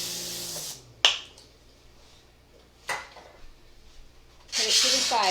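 Cooking oil spray hitting a pan comes in short hissing bursts, one at the start and a longer one at the end, with clicks and handling noises between them.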